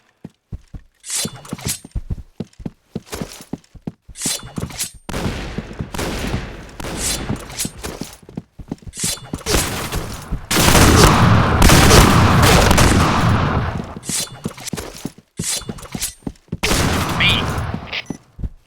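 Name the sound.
gunfire in the video game Point Blank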